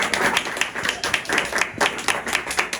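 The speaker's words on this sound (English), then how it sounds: "Can you give a clap offering to God?" A church congregation claps together in steady, dense applause during a sermon, a brisk continuous patter of many hands close by, with little speech over it.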